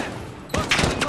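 Gunfire in Call of Duty Modern Warfare during the Embassy campaign mission, a sudden loud volley of shots cutting in after a quiet moment of ambient hum, with brief overlapping cracks.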